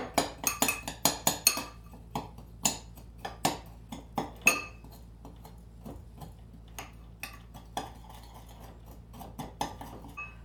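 A utensil clinks and taps against a bowl while brown sugar is mixed into a spice rub, a rapid run of sharp strikes at first, then sparser knocks, close and quiet with no talk.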